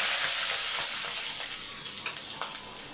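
Green chillies and curry leaves fry in oil in a clay pot over a low stove flame, giving a steady, close sizzle and crackle that continues without a break. No one speaks.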